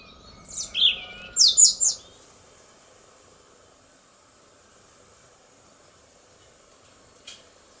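A few bright, high bird chirps early on, then near silence with one faint chirp near the end.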